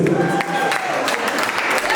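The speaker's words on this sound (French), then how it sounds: "Applaudissez pour elle, s'il vous plaît." An indoor audience claps in a dense, steady patter at an event where a contestant returns to the game, with a voice speaking over the applause.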